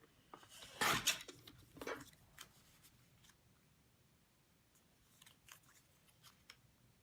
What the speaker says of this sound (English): Just want to cut these guys in half.